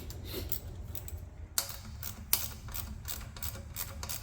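A ratchet wrench tightens a part on a car in a garage, giving quick close clicking ratchet strokes over a low background rumble, with two sharper metallic clicks standing out.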